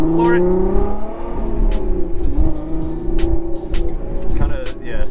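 Volkswagen R32 launching hard off the line at an autocross event, the engine note climbing loud and close as it accelerates, with people talking over it inside the car.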